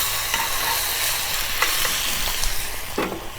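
A ribeye steak sizzles loudly in a cast iron pan with rosemary, a dense continuous crackle close up, with a few light knocks of utensils.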